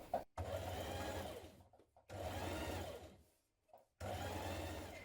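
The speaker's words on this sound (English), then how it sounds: "We're stitching a couple of millimetres away from the seam around the front and back neck." A sewing machine stitches close to the seam around the front and back neck of a summer dress lining, running in three steady bursts separated by brief pauses, close and clear with no talking.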